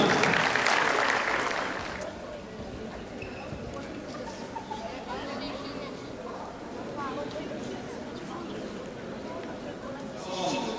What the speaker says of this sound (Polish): Duże brawa dla pana Tomasza Ochmana.